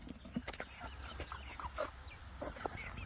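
Wyandotte chickens cluck in short, scattered, soft calls close by over a constant high hiss, with no pecking clearly audible.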